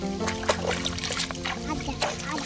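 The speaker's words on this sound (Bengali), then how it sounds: "পুকুরের খোলামেলা জলে ধোয়া অনেক তাড়াতাড়ি হয়ে যায়, আর অনেক পরিষ্কার ভাবেও হয়ে যায়।" Vegetables are washed in open pond water, making close splashes, sloshes and trickling drips, with an occasional faint voice in the background.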